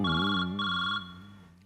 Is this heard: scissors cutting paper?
no